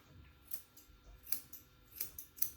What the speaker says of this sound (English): anything that's past the nose, I trim off